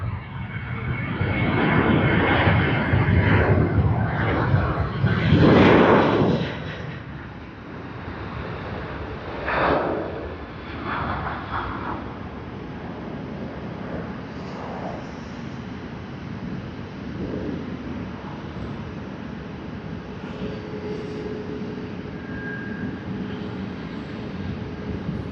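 A Cathay Pacific airliner at Sydney Airport roars loudly close by with a broad jet rumble, then recedes to a softer steady engine whine in the distance.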